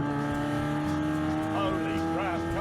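Fiat Panda 4x4 engine accelerating hard, a steady droning note under a voice that strains along with it, with brief rising whines near the end.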